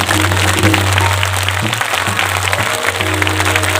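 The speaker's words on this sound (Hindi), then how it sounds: "एक बार जोरदार दोनों हाथ उठा करके सभी के लिए तालियां।" A large crowd at a Shantikunj gathering of the Gayatri Pariwar bursts into loud, dense applause that fills the whole moment, with a steady low electrical hum running beneath it.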